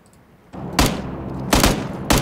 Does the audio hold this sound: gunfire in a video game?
yes